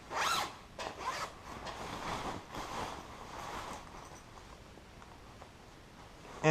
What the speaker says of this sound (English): right here you also have another zipper, which you open up